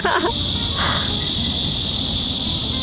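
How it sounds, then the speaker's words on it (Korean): A steady, loud buzzing drone of cicadas in Korea fills the entire clip, with brief faint rustling sounds near the start. "한국에서의 매미 소리가 저 익숙치가 않아"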